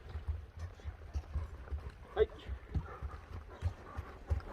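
A horse walking on a short stretch gives faint, irregular hoof clip-clops under nearby talk.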